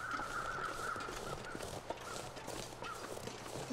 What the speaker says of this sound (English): What are the crows yelling about?